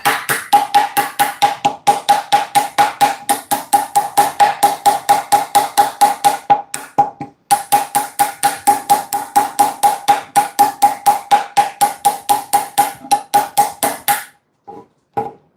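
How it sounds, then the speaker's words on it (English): A short hammer chips steadily at a piece being shaped, close and loud, in fast regular strikes for about fourteen seconds with one brief pause midway, then stops. "what I'm going to do is choke up on the hammer a little bit, go from this side and just start to chip away at it this way"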